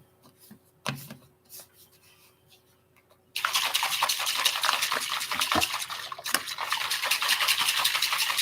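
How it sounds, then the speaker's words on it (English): A powdered drink mix rattles and sloshes inside a shaker bottle, a loud continuous shaking that starts abruptly after a few quiet seconds of small handling clicks and runs steadily to the end. "so I'm shaking it, making sure it's blended very well"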